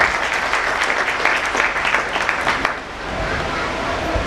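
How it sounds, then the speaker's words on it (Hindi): An audience applauds at an Ekta Diwas gathering, a dense, steady roar of clapping that carries on throughout and thins a little toward the end, with some crowd murmur mixed in. "जोरदार तालियां सर के लिए।"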